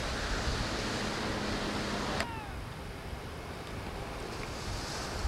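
Surf at Doheny State Beach makes a continuous broadband wash of waves, loud and steady, with gusty wind across the microphone and a brief sharp tone midway.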